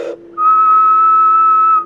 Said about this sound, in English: if I whistle into the microphone hole